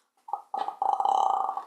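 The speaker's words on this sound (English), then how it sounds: "I burp too much." A run of loud, close burps from a person showing off a burping talent: a short grunt, a brief belch, then a long sustained rumbling eructation, all with no other voices.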